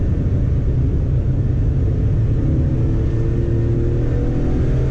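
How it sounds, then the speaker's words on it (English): A race car in a C1 endurance race at Silverstone rolls into the pits, its engine a loud, steady low rumble with a droning tone held close for several seconds, no voices present. "The police car, livery car almost, number 474 into the pits."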